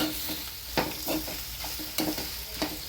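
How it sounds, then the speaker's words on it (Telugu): Broad beans (chikkudukaya) stir-frying in a pan, a close, loud continuous sizzle with a utensil scraping the pan in rhythmic strokes about every half second, no talking. "కాబట్టి మనకి చిక్కుడుకాయ ఫ్రై చేసేస్తాను"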